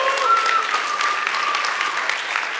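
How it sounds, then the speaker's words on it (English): Summit audience applauding, a dense, steady round of clapping sustained throughout, loud and full, with a faint voice briefly audible underneath. "big round of applause"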